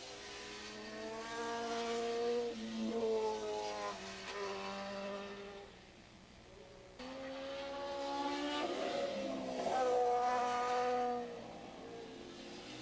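High-revving racing engines in the 750 and Open Modified Production classes at Willow Springs Raceway in 1987 wail past loud and close in two sustained passes, their pitch climbing and sliding as they accelerate and shift.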